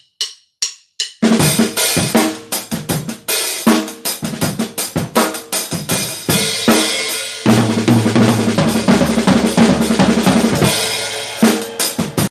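Close, loud drum kit laying down a slow rock or funk backbeat, broken up by dense 32nd-note fills that roll across the snare and toms, set off by a few sparse opening hits and ringing cymbals.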